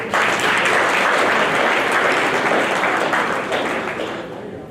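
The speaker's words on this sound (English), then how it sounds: "let's clap for her again." An audience claps together at a thanksgiving gathering, a dense, steady burst of applause lasting a few seconds and fading gently at the close.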